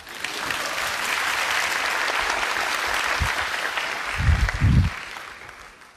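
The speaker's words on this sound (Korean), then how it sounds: "이때 박수 치셔도 됩니다." An audience at a technology conference talk on smart cars applauds a self-driving car demonstration, a steady, dense roar of clapping that lasts throughout, with a few low thumps near the end.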